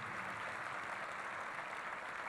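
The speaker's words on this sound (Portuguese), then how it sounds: "Uma salva de palmas a todos os guerreiros e guerreiras no processo democrático brasileiro." Sustained crowd applause at a Brazilian political event honoring fighters of the democratic process, a steady dense wash of clapping with no voices over it.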